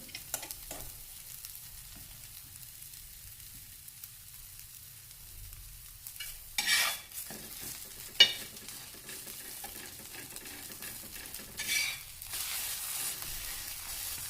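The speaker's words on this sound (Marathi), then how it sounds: "कांदा वगैरे छान भाजतो." Chopped onion fries in oil in a pan for omelette toast, a soft, continuous sizzle at low level, broken by a few louder bursts of stirring and scraping.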